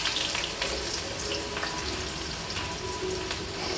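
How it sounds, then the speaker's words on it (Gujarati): Onions and cumin fry in hot oil, giving a dense, loud, steady sizzle with faint crackles and a few light stirring sounds throughout. "જીરું થઈ જાય પછી એની અંદર કાંદા લાલ થવા માટે નાખી દેવાના છે"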